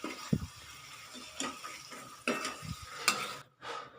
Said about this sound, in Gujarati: આપણે એમાં ભાજીને ઉમેરીશું। આપણે સરસ હલાવી લઈશું।